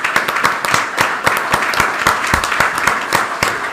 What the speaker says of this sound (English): Everybody, please, a nice round of applause for Sean.